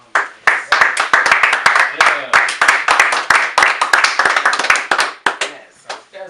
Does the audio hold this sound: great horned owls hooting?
no